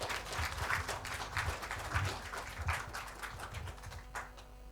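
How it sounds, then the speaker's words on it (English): A small audience at a CFA charter award ceremony in Jakarta applauding new charter holders, moderately quiet, steady clapping lasting a few seconds and fading slightly toward the end. "Let's give them an applause."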